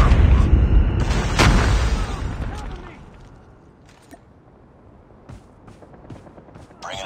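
Grenades go off in a multiplayer shooter game, with a heavy close boom and rumbling blast that fades into quieter scattered gunfire and small impacts.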